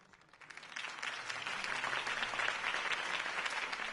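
Crowd applause swells after Harvey Dent's campaign speech in a video game, starting quieter and building to a dense, sustained clapping that holds steady for several seconds.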